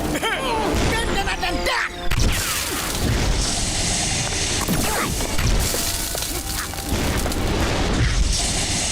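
A sleep bomb fires in a Motu Patlu cartoon battle. Loud booms, crashes and mechanical clatter come dense and continuous, with dialogue mixed in.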